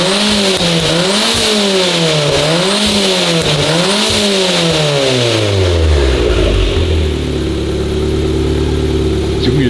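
Tuned Abarth car engine around 300 hp revved hard from outside, rising and falling in repeated loud sweeps, then a final climb to high revs before dropping to a burbling idle; no talk.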